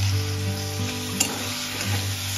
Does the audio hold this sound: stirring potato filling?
yes